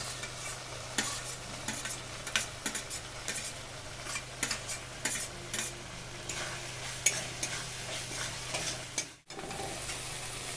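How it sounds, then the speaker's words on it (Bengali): Fried prawns being stirred into a thick spice masala in a pan, with a steady broadband sizzle and scraping spoon strokes repeating throughout, a brief dropout near the end, no talking. "দিয়ে দিচ্ছি ওপর দিয়ে মিট মশলা খুব ভালো করে নেড়ে নেবো"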